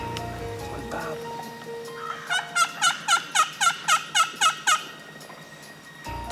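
Hunter imitating a hen turkey with a call during a turkey hunt in the Eastern Townships of Québec, a run of about ten evenly spaced, clear yelping notes, fairly close and alone against a quiet outdoor background.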